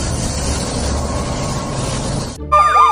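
A broad noisy rush fills most of the clip, then a toy siren cuts in near the end, warbling and sweeping in bright electronic tones, loud and close.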